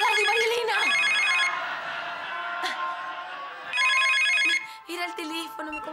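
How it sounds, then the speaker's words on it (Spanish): Telephone ringing in a sitcom home, bursts of bright electronic trilling with a gap between rings, overlapped by shouting voices and household commotion. "Era el teléfono, me confundí"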